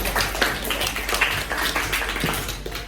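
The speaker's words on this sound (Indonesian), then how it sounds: "Tepuk tangan untuk Yanika." A classroom of students applauds a classmate, Yanika, with steady, dense clapping throughout and a few louder claps standing out.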